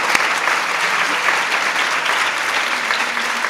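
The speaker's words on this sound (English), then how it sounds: "Let's give Jill a round of applause." An audience at a White House Mother's Day event gives warm, even applause, steady clapping throughout at moderate loudness.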